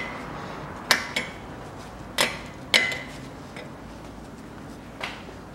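A brake pad spring on a 2016 BMW X3 front brake caliper is pressed and snapped into place, giving sharp metallic clicks and taps that come singly and in pairs, close and loud, with short pauses between.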